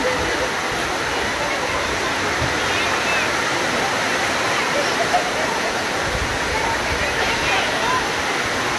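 A heavy rain downpour pours down steadily over an outdoor court in Xochihuehuetlán, Guerrero, a dense, continuous roar with no breaks, loud and close.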